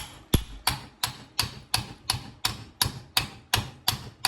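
A piece of brass taps a socket down over a shaft end during a Baja build, giving about ten sharp metallic knocks in a steady rhythm, evenly spaced and close, with no talk.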